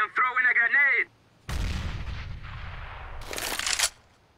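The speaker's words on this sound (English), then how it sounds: "I am throwing a grenade!" A grenade explodes in the video game CS:GO, with a heavy, booming blast followed by crackling gunfire that fades out. A voice is briefly heard just before the explosion.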